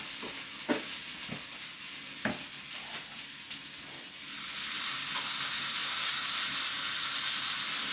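A wrap frying in a pan gives a steady sizzle, with a few sharp pops and scrapes early on before the sizzle swells into a louder, constant hiss.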